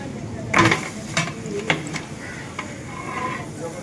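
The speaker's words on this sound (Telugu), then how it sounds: "చూడండి, మటన్ వేస్తున్నాం." Mutton tipped into a large pot for a bulk cooking batch gives a soft sizzle with a few metallic clanks and stirring scrapes, close and steady.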